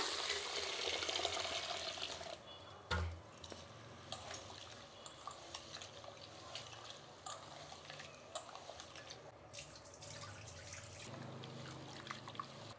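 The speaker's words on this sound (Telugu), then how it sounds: "బియ్యం ఇలా శుభ్రంగా కడుక్కున్న తర్వాత నీళ్ళు పోసి పెట్టేద్దామండి." Rice washed by hand in a vessel of water for uttapam batter: quiet intermittent sloshing and dripping with light clinks of grains and metal against the pot, close and soft, with no talking.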